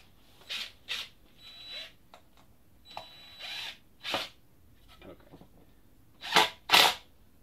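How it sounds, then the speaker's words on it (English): An impact driver spins small bolts in on a 2006 Ford Explorer 4.0 V6 fan clutch in short separate bursts, about nine brief whirs and rattles spread across the stretch, the last two louder. "I'll spin it in with the impact, but because they're such small bolts, you don't want to impact them too hard"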